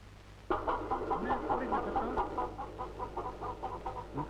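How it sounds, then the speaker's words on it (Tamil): A chicken clucks in a comedy film scene, a rapid run of short, rhythmic clucks that starts abruptly and continues steadily at close range, with no talk over it. "கோழி"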